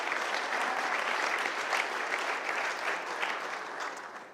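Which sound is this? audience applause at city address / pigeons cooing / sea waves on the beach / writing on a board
audience applause at city address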